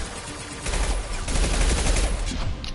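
Gunfire from the video game Mass Effect 2 bursts in after a quiet half second, a loud, dense volley of shots with booming low thuds continuing steadily to the end, no talking over it.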